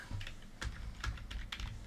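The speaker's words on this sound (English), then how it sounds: "Just type it in." Quick bursts of typing on a computer keyboard, several close, crisp key clicks in uneven clusters over a short stretch, with no talking.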